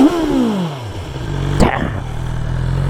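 A BMW S 1000 XR motorcycle with an Akrapovic exhaust, already warm and in neutral, is revved up: engine pitch sweeps down after an opening blip, then a sharp throttle burst near the middle settles into a steady, loud idle rumble, close by.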